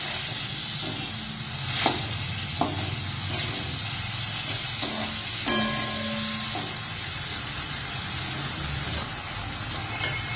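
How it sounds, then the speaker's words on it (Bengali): A ground spice paste with salt and turmeric sizzles in a frying pan, a steady hissing fry broken by several sharp spoon scrapes and clinks against the pan, close by. "দিয়ে দিলাম পরিমাণ মতো লবণ আর দিচ্ছি হলুদ গুঁড়ো ভালো করে একটু নাড়াচাড়া করে নেব"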